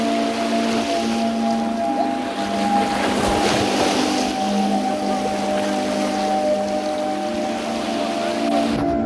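Sea waves rolling in steadily at Alekdia beach in Sitakund, a loud continuous wash of surf with a low engine-like hum beneath it and no speech.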